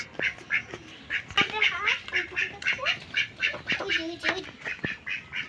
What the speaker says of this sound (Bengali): এখন আমার আপনাদের হাঁস মুরগি দেখাবো